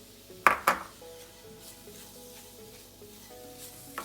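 Coconut and sugar stirred together in a pan for a red cake filling: a couple of sharp utensil clinks against the pan near the start, then soft faint scraping and sizzling, fairly quiet.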